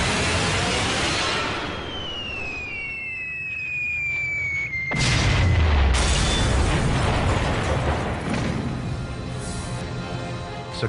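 Bombs strike a rail yard in a 1942 daylight bombing raid, a falling whistle followed by heavy, sustained rumbling blasts that fill the rest of the clip, loud and close with no talking.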